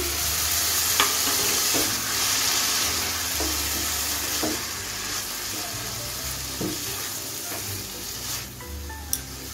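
Semai vermicelli and milk in a pot are stirred with repeated scraping strokes at an uneven, unhurried pace, over a continuous low sizzling hiss, with a sharper knock near the end.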